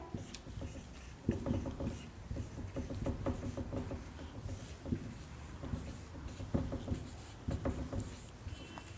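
Numbers being written on a board in a class 5 division lesson, soft scratching and tapping strokes arriving in uneven clusters, close but fairly quiet, with no voices.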